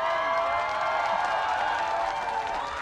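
A large Polish crowd at a Strongman Grand Prix cheers and claps steadily throughout, a dense, continuous roar of many voices with no single voice standing out.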